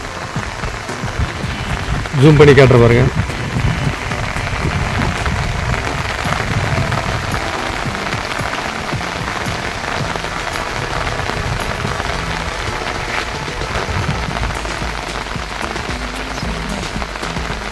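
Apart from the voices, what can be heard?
light drizzling rain falling in a hill region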